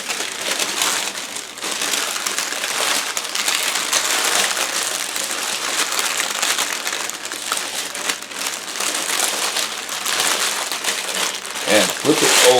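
Parchment paper crinkling and crumpling continuously at close range as a hot loaf of whole wheat bread is wrapped, a busy rustling texture lasting several seconds.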